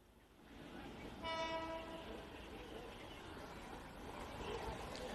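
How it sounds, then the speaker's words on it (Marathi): A crowded Mumbai Western Railway local train bound for Virar sounds a brief horn blast while rolling past, with rumbling rail noise continuing underneath and a voice talking faintly. "विरार साईडला चाललेली लोकल आहे"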